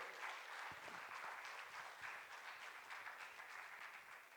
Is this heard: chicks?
no